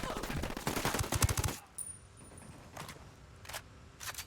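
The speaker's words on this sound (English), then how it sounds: "Opening fire on these fuckers." Automatic weapon fire from a Ghost Recon Wildlands firefight, with a dense, loud burst of rapid shots up front that gives way to a few sparse, fainter single reports.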